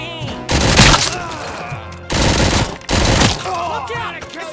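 Gunfire in the RoboCop: Rogue City video game, loud dense bursts of automatic fire in two or three blasts mixed with shouting voices and game music.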